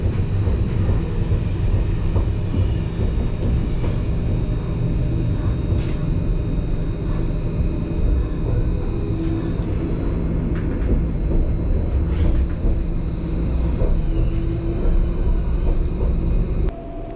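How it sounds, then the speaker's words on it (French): A line 3 tram at Lutherbach in Mulhouse rolls by with a steady, close rumble and a thin sustained whine, with occasional sharp clicks from the rails, running unbroken for about seventeen seconds. "Tramway de la ligne 3, Lutherbach,"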